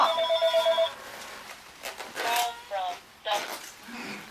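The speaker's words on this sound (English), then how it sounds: "Answer the phone, Joe." A telephone rings with a short pulsed electronic trill during the first second, then people talk and react in a room.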